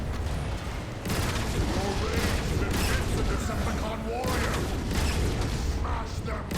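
Rapid bursts of gunfire and explosive booms from the Transformers: War for Cybertron video game fill the scene with a dense, continuous barrage as Autobots are gunned down.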